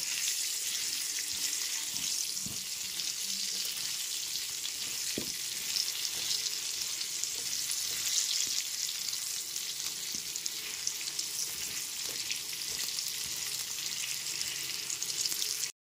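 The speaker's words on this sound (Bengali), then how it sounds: "লবণ আর হলুদ গুঁড়োটা দিয়ে গ্যাসের ফ্লেমটা মিডিয়ামে রেখে আলুগুলোকে লাল করে ভেজে নেব" Potatoes fry in oil with salt and turmeric over a medium gas flame, giving a steady, close hiss and sizzle with a few sharp clicks of stirring throughout and no talking.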